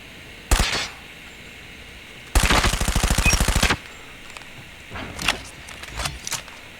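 A gun fires in the video game Call of Duty Mobile: a single shot, then a rapid, even burst of automatic fire lasting over a second, followed by a few fainter shots and movement sounds, loud and close.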